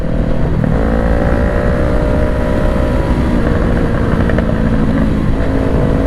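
Steady engine drone of a 2020 Honda CBR500R motorcycle while riding at night, a continuous loud hum with wind rush and no speech.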